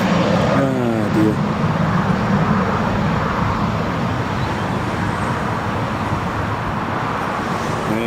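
An Emirates airliner flies near Newcastle International Airport, a loud, continuous broadband engine roar that holds steady throughout. Voices talk briefly at the start.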